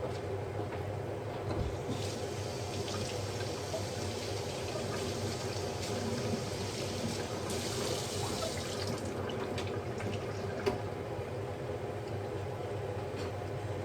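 Running tap water rinsing sotanghon glass noodles in a kitchen sink, a steady close splash and trickle that continues throughout with no talk.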